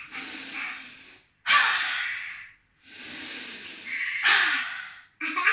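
Lion's breath from children's yoga: deep nasal inhales followed by forceful, breathy roaring exhales through the open mouth, repeated in a slow rhythm of about three close, loud breath cycles.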